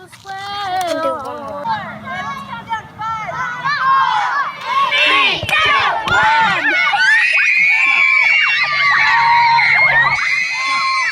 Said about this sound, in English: You hear that screaming?